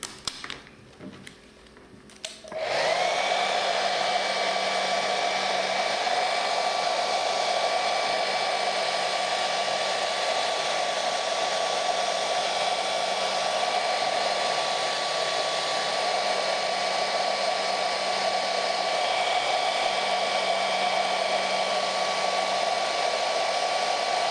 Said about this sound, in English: We will heat this part a little bit more and then I think it will be okay.